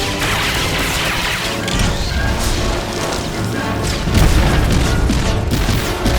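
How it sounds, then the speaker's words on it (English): In the Star Wars: The Old Republic game, a missile barrage hammers a turret with dense, overlapping explosions and metallic crashes. A heavier blast hits near the end, loud and continuous. "And with one last barrage of missiles, that's down too."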